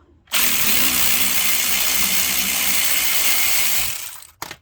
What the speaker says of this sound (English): start by taking the caliper off. It's a 13mm socket